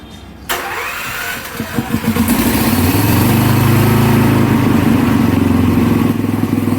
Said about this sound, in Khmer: ឥឡូវខ្ញុំបញ្ឆេះម៉ាស៊ីន